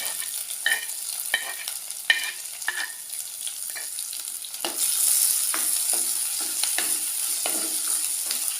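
Crushed ginger and shallots being stirred in a hot pan for vala (ribbonfish) curry: a steady soft sizzle broken by irregular spoon scrapes, growing a little louder toward the end, with no voices.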